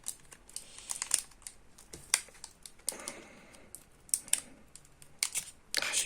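Plastic film crinkles and crackles as a sealed Pokémon Tag Team EX card box is picked open with fingernails, irregular close rustles and crisp snaps throughout, no talking.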